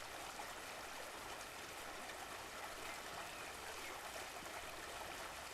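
A river flows past a small stone crossing with a faint, even rush of running water that holds steady throughout without a break.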